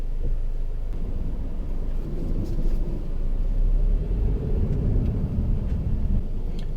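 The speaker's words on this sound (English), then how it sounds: "In Sport Plus, the car sounds so much more aggressive than in sport mode." A steady, loud engine rumble with road and wind noise, sustained throughout without pauses, from inside a moving 2017 Mercedes C200 AMG in Sport Plus mode.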